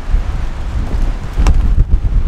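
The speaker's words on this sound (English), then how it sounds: "The rain is just coming straight through and under. There's so much wind." Strong wind buffets a campsite during a rainstorm, a dense, close, rumbling rush of gusts and rain with a sharp crackle midway.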